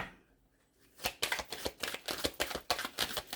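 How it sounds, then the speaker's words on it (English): Rapid riffle-shuffling of a tarot deck, close and crisp, repeated in quick bursts after a brief quiet start. "One more shuffle."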